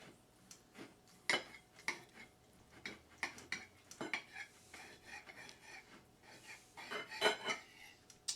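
A knife works through an oven-broiled marinated steak on a plate, giving a string of scattered clinks and scrapes of metal on the plate at close range, with no talking.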